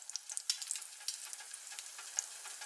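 Bacon fries in a pan for an egg and bacon muffin, producing a bright, crackly sizzle of sharp pops and spits over a thin hiss, close and clear with no voices.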